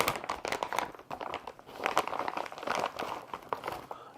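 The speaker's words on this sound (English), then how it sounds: "Comes in a plastic bag." Crinkling plastic bag wrapped around a SmallRig camera cage kit for a Panasonic Lumix GH5, close and irregular, with bursts of crackling rustle as the packaging is handled.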